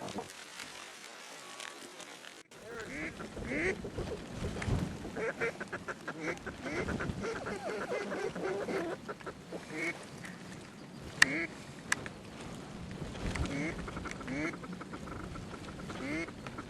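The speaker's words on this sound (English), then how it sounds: "I see all these mallards dumping in" Mallard ducks quacking during a field hunt, scattered calls and honks over a murky outdoor background with people talking quietly, and a couple of sharp sudden clicks midway.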